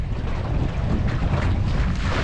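Steady, loud wind roaring and buffeting across the microphone while sailing a dinghy in strong Force 6 conditions, with water wash beneath, continuous and close with no talking.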